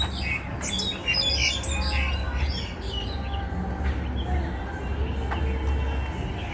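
Birds in a park chirping and squawking in a busy chorus, close and continuous, with a low background hum underneath.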